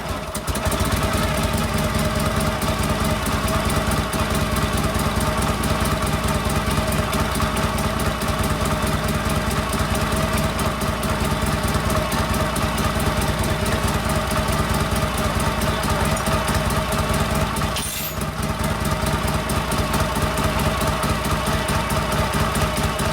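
A Harley-Davidson Panhead motorcycle engine on an FL/FLH bike fires up without choke and settles into a loud, lumpy, loping idle, close by, with one brief dip in the beat near the end.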